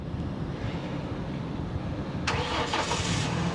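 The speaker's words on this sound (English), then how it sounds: "Turn the car on." A car engine cranks and catches at about two seconds, then settles into a steady idle under a constant low rumble of background noise, moderately close and with no talking.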